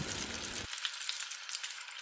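Sausages fry in oil in a wok, giving a steady, close sizzle and crackle throughout, with a short low rumble at the very start.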